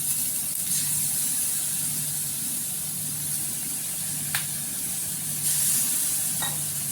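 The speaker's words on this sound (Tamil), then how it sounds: "இந்த பாலை இது மேலே ஊற்றலாம்" Milk poured onto toasted banana bread in a hot pan sizzles with a constant, close hiss. A couple of faint clicks break through the frying noise.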